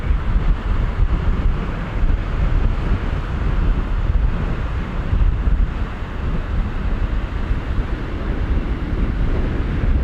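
Strong wind buffets the microphone on a hillside slope while a 1.5 m RC plank glider is flown, a steady loud roar with gusty rumble lasting throughout, no voices.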